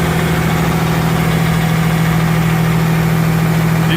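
The diesel engine of a rebuilt Peterbilt 379 truck idles loudly and steadily up close with a constant rumbling drone, with no talk.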